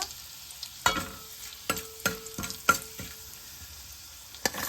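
Ginger pieces frying in hot oil in a pan for puri curry, a faint steady sizzle punctuated by several sharp clanks and scrapes of stirring, close by with no talking.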